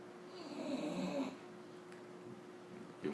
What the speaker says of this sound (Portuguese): Olha o ronco.